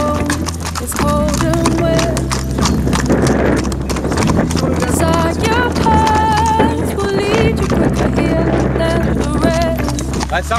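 Horse hooves clip-clop steadily and close during a ride, a regular rhythmic beat under a rider's talk and occasional background sounds.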